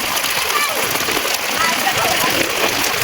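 Heavy rain pours down in a dense, steady hiss and patter that stays loud and even throughout, with people talking over it.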